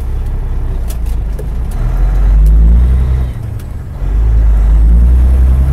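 Inside a moving semi truck, a loud, deep engine drone fills the cab and briefly drops away before surging back as the driver changes gear. Faint rattles sit above the rumble.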